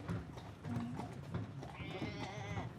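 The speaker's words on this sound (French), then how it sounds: "La calèche bouge, on entend les bruits du cheval" Horse hooves clip-clop as the animal pulls a moving carriage, faint uneven beats mixed with rolling rumble and outdoor ambience.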